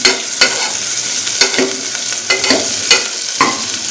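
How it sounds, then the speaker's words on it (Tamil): Salted dried mutton (uppu kandam) sautéing in oil on a medium flame, a steady loud sizzle broken by several sharp scrapes and clacks of stirring at irregular intervals, with no voices. "உப்பு கண்டத்தை சேர்த்துட்டு ரெண்டு நிமிஷத்துக்கு எண்ணெயில் நல்லா வதக்கிக்கிடலாம்"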